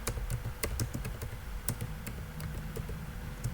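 Typing a code comment on a computer keyboard, irregular sharp key clicks in quick bursts, close and fairly quiet over a soft low background.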